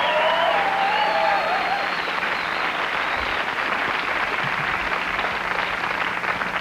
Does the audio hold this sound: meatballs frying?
no